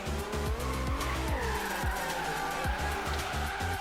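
A car drifts in Forza Horizon 3, played on a Thrustmaster T3000 RS wheel. The engine roars loud and close through rapid gear and rev changes while the tires squeal continuously through the slide.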